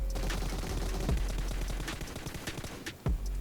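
Scattered gunshots in PUBG Mobile crack out at uneven intervals, some sharp and close, others distant, with a few rapid bursts over a low background rumble and no speech.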